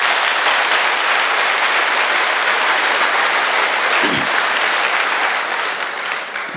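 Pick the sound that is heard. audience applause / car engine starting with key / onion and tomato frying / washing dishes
audience applause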